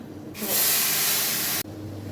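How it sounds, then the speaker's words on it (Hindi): A sudden loud, broad sizzling hiss bursts out and holds for about a second, then cuts off abruptly, as hot oil tempering is poured into a pot of kadhi. "कढ़ी छौंक दी है हमने"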